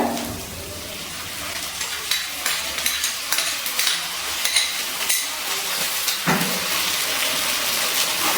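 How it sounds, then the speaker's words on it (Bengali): Tomato paste going into a pan of onion masala with ginger, green chilli and garlic paste, frying with a steady close sizzle while a spoon stirs and scrapes in soft irregular strokes, with no talking. "এবারে দিয়ে দিচ্ছি টমেটো বাটা।"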